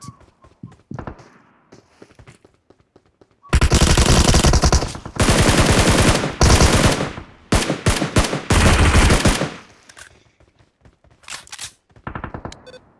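Rapid automatic gunfire in PUBG Mobile, loud bursts of sustained rifle fire with short gaps between volleys and sharper single shots toward the end, close and dominant.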